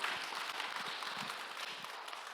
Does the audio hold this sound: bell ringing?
no